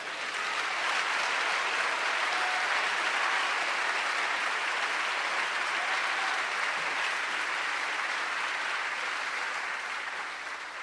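A church congregation applauding: steady, dense clapping from a large crowd that carries on evenly for about ten seconds, heard somewhat distant, then eases slightly at the end. No speech over it.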